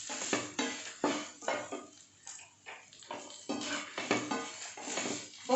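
Chammanthi mixture with tamarind and turmeric stirred in a pan, giving repeated scraping and clattering strokes of a spoon against the vessel, close and fairly loud, with no talk.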